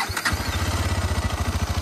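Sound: GT650 motorcycle engine starting

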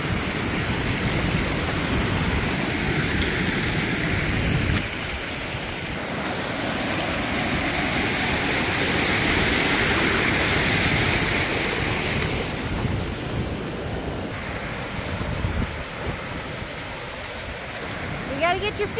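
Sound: water running down a mountain creek

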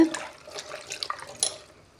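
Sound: washing chopped bottle gourd with water in clay pot

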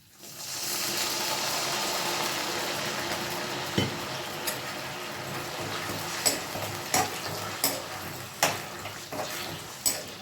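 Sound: jaggery syrup being cooked and stirred in a pan

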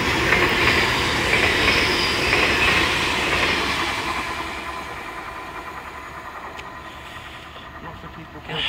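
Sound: train passing at Welwyn North

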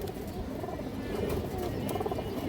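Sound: big old-bloodline pigeon cooing

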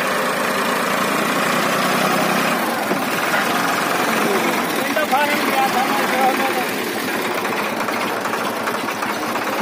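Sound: tractor engine pulling a big loaded trolley

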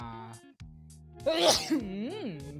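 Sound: sneeze

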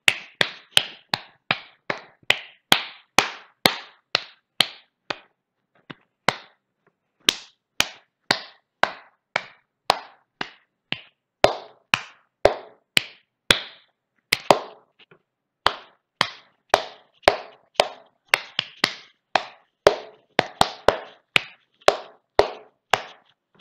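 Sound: clapping the beat of Beethoven's Ode to Joy

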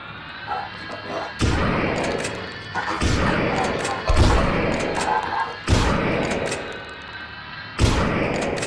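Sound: shotgun fire in Lost in Vivo video game

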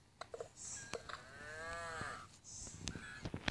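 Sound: cow mooing in video game Mini Block Craft

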